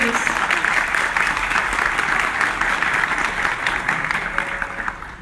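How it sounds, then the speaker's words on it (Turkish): A hall audience at a miners' choir event applauds a union guest, producing loud, continuous clapping that holds steady and tapers slightly toward the end. "evet alkışlıyoruz."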